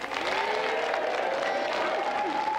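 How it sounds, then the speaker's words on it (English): Studio audience applause on a 1995 GamesMaster TV show, a dense, steady clatter of clapping filling the room for the whole stretch with a faint crowd murmur beneath. "Round of applause for Mel."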